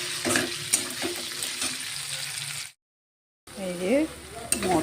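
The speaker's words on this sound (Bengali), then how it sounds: "দেখি এইটা ভাজা হলে একটু মশলা দিই।" Vegetables fry in a pan while being stirred, with close sizzling and scraping strokes, a sudden brief silent cut, then the sizzle and stirring resume with some tonal clatter.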